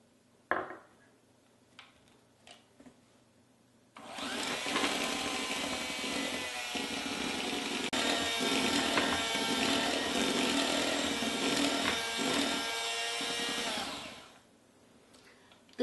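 An electric mixer runs steadily on chocolate pie filling for about ten seconds, whirring loud and even, then shuts off, with quiet kitchen clatter before and after.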